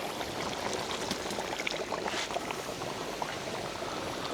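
Pilaf bubbling hard in a cauldron over an open fire as boiling water is added, a dense close-up simmer of popping bubbles and liquid churning, steady throughout.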